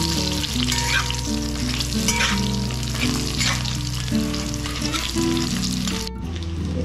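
Fried potatoes and a fried fish head drop into sizzling spices in a pan for Bengali muri ghonto. The pan hisses and crackles loudly and steadily, with no talk.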